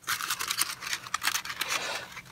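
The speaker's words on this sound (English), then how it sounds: "Then I just get the whole thing without ripping it, just crumple it into a ball." Paper being crushed and crumpled into a tight ball for a model railway layout rock mold, a close, busy run of dense crackling and crinkling bursts with no talk.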